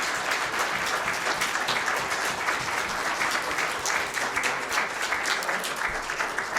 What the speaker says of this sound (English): Round of applause for the candidates.